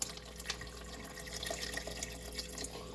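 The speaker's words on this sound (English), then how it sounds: "a little more water" Water trickles and splashes steadily into a cooking pan, a faint continuous pour with small drip-like spatters throughout.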